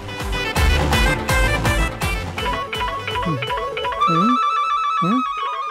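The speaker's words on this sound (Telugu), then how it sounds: "నా ఫోన్ ఎక్కడో రింగ్ అవుతుంది." A mobile phone ringtone plays loudly: a bright, repeating electronic melody with rhythmic notes, close by, with no talking.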